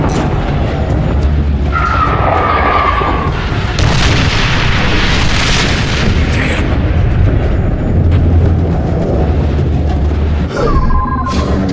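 An artillery fire support strike in The Bureau: XCOM Declassified, loud sustained booming and rumbling explosions rolling through the whole stretch, with faint whistling tones and scattered bursts on top.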